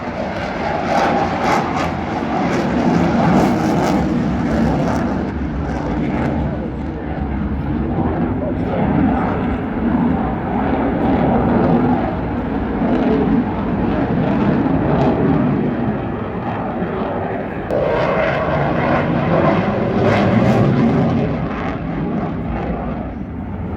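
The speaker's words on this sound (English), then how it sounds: "And now he puts in the afterburners." A jet roars through an airshow display, its afterburners lit for a steady, loud, sustained rumble that swells and holds, with a commentator talking over it on the PA.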